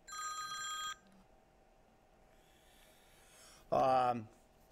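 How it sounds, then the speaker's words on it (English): A mobile phone rings in a quiet room during a spoken history talk: two separate bursts of bright, tonal electronic ringing, the first about a second long and the second shorter and louder, with near silence between them. "I forgot to shut my phone off"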